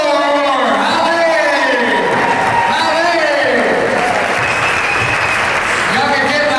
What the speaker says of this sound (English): let's get another round of applause for Holly Moore